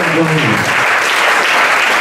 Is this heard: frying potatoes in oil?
no